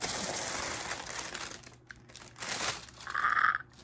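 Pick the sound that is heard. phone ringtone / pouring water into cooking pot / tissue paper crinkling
tissue paper crinkling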